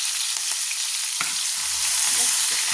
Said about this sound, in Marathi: लगेच आपण अद्रक लसूण पेस्ट यात टाकणार आहोत